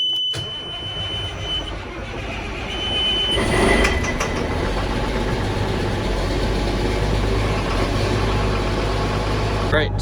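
A John Deere 8410 tractor engine idles steadily while warming up, a continuous low rumble close by with a brief louder swell partway through.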